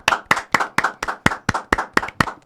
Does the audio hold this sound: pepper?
no